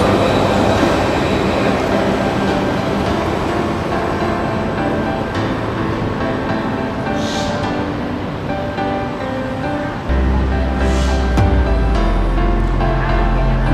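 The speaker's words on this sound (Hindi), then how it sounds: "अब ये ट्राम जिस तरफ से हम आए थे उस तरफ ये जा रही है" A tram pulling away through a Barcelona city street, a loud continuous rolling rumble and rattle of wheels on rail, with a deeper hum joining toward the end.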